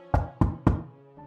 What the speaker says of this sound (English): a knock on her door could be heard.